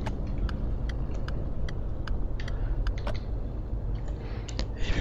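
A Suzuki Liana engine hums low and steady while driving in the City Car Driving simulator, fairly quiet, with a series of sharp, irregular clicks ticking over it.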